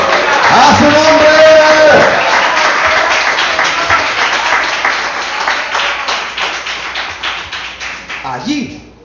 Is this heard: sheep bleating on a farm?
no